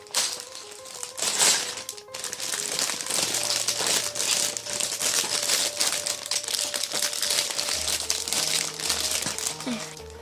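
Plastic crinkles and crunches steadily up close as a bag of LEGO pieces for the Sleeping Beauty's Fairytale Castle set is torn open, with a few faint background tones.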